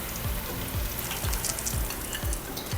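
Onion pieces coated in soft batter fry in shallow oil, giving a steady crackling sizzle close up, with regular low thumps and clatter every half second or so as pieces are stirred or added.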